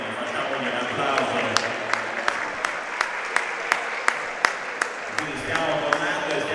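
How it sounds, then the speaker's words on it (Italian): An audience at a boxing event in Sardinia, the Sardinia Boxing Challenge, applauds in honour of a boxing champion. A steady wash of clapping runs throughout, with sharp individual claps standing out at regular intervals, and talk underneath. "facciamogli un applauso."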